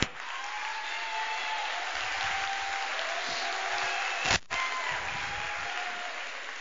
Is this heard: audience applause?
yes